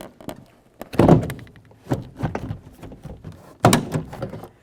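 An interior trim panel on the rear door of a 2003-2007 Honda Accord is pried loose, giving a series of dull plastic thunks and clip pops, two strong ones near one and nearly four seconds, with smaller taps and rustling between.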